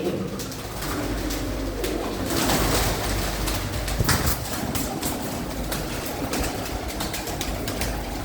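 Pigeons coo in a low, steady murmur under a dense, broadband background rumble that continues throughout.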